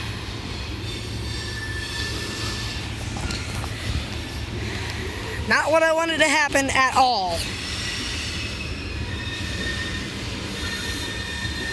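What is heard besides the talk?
loaded CSX coal train passing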